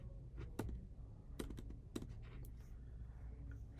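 Someone types on a computer keyboard nearby, with soft, irregular keystroke clicks over faint background hum.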